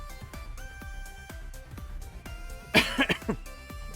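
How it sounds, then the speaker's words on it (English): A short burst of coughing, several rapid coughs close up, over quiet background music. "Sorry, I'm coughing today."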